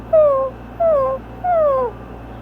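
Three drawn-out, falling whimpers in a row, a voice imitating a whining puppy, close and clear with short pauses between.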